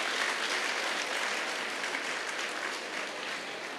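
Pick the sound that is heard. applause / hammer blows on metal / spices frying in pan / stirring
applause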